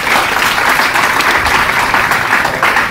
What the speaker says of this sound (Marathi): सर्वांनी त्यांचं टाळ्या वाजवून स्वागत करावं